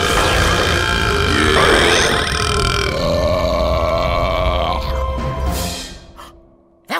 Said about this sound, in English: I call it the Blinding Beauty Belch.